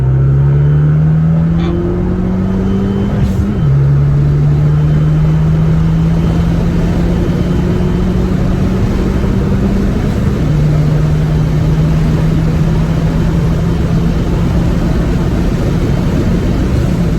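A Fiat 500 Abarth engine runs loud and steady from inside the car, a constant droning rumble with two audible downshifts as the pitch drops, and no one talking.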